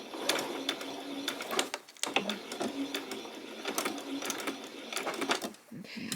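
A sewing machine stitches a peasant top in bursts of quick, even needle chatter that stop and start several times, close and moderately loud, with brief pauses where a pin is pulled and some backstitching.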